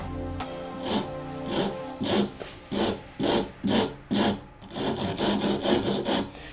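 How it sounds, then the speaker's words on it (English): A big file rasping the edge of a wooden guitar head, heard as a run of about a dozen close, rhythmic grinding strokes, each a short scraping burst separated by brief pauses. "And I'm just using this big file."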